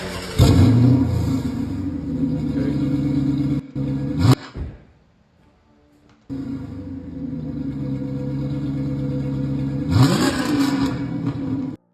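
A car's 5.7 engine cranks and cold-starts, settles into a steady idle, cuts out briefly, then starts again with a quick rev partway through.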